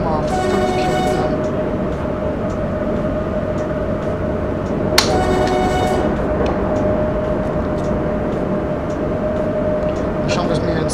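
Train running in Train Simulator 2013, a steady rumbling rolling noise with a sustained tonal hum, a brief sharp clank midway, and voices talking over it throughout.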